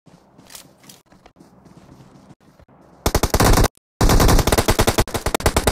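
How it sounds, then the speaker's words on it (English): Machine gun fire in a video game, loud rapid bursts of shots after a quieter stretch of soft footsteps and movement, with a short pause between two long volleys. "I just put a load of bullets into him."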